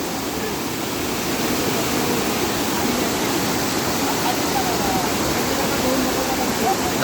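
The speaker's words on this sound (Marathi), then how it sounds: "किती सुंदर वाटतं हा पडणारा पर्याचं पाणी किती फेसाळलेलं आहे बघा" Frothy water tumbling down a rural waterfall makes a loud, steady broadband roar, close by and continuous with no breaks.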